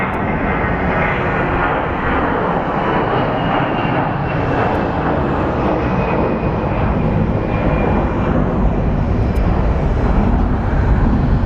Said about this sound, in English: I want to focus on planes taking off.